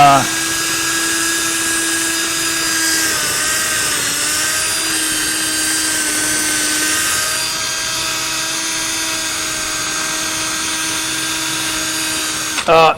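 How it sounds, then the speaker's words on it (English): A power tool with a wire wheel brush scrubs old grime off Chevy 4.3 cylinder heads, a loud sustained high-pitched whine that wavers slightly in pitch as the tool is pressed against the metal, running steadily before stopping. "I'm gonna take a wire wheel, wire brush."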